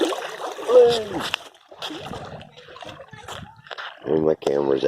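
Seawater splashes and washes against the legs of someone standing in the sea, a continuous close sloshing with a few louder surges, while a voice is heard alongside it.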